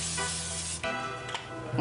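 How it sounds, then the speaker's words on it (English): Cooking spray hisses onto cake pans in a short burst, a close, soft spray that fades and then comes back briefly in a second, quieter puff. "and then spray them."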